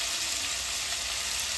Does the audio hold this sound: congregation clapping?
no